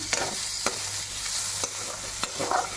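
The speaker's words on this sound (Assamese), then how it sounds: "এতিয়া মাংসটো ধুনীয়াকৈ লৰাই আছোঁ" Assamese-style pork cooking with lai xaak and bamboo shoot is stirred in a sizzling pan, a steady frying hiss broken by several distinct scrapes of the spoon, close and moderately quiet.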